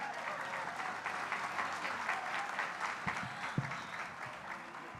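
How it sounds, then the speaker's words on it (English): Audience applause for Councilmember Janine Peirce at the grand opening of the Billie Jean King Main Library in Long Beach: a sustained, even patter of many hands clapping, fairly distant, with a few nearer claps. "Let's give her a round of applause."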